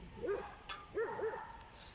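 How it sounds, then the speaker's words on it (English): Dogs playing outdoors give short, faint yips and whiny barks in two brief bursts, somewhat distant, with quiet ambience between. "we can see some dogs playing over there"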